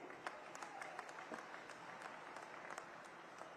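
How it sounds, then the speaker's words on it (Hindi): Crowd applause at an outdoor BJP political rally in Kalanaur, heard faint and distant as scattered claps patter over a continuous wash of noise. "जोरदार तालियों से स्वागत कीजिए जी"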